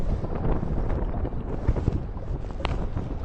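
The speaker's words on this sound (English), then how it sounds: "Sorry if you can't hear me, but this wind is ridiculous now." Strong gusting wind at a reservoir during match fishing, buffeting the microphone with a continuous loud low rumble and roar.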